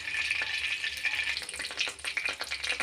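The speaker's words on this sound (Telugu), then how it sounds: "ఆవాలు, ఎండుమిర్చి వేసుకున్నాను" Mustard seeds, dried red chilies, lentils and cumin crackle and spit in hot oil in a kadai, a dense continuous sizzle with scattered sharp pops close up.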